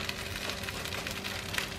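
Corn tortillas frying in hot olive oil in a pan, giving a steady, close sizzle and crackle with small irregular pops throughout.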